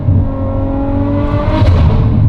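A Ferrari F12's engine revs loudly and close, a dense sustained roar that climbs to a sharper, higher peak partway through before holding steady.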